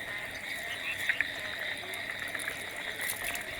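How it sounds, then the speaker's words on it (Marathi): A frog croaks in repeated short bursts at night during the first monsoon rain in Konkan, heard close over a steady wet background hiss near water. "हा बेडूक घेऊ काय"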